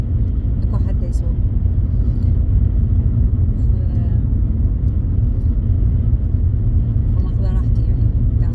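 Inside a moving car, a steady low road rumble and engine drone fills the cabin without break, with faint rattles and light background voices now and then.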